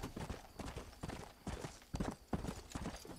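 Horse hooves galloping in Red Dead Redemption, a steady rhythmic clip-clop of close, moderately loud hoofbeats.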